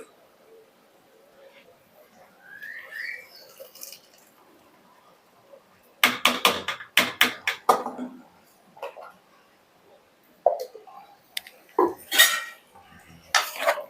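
A spoon stirs roasted paste into chicken sambar in a metal pot, scraping and clinking in rapid bursts, loud and close, after a quieter stretch with faint background sounds.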